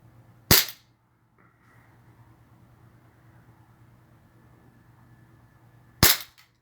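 Two sharp airsoft gun shots, a few seconds apart, fired outdoors at a drone that flew over the property, with a faint steady hum between them.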